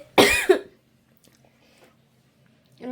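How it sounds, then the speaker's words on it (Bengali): A single sharp, close cough bursts out at the start, set off while eating coconut, followed by near silence with faint rustles and a brief voiced sound at the end. "নারিকেলের খাইতেছিলাম, কাশি উঠে গেছে"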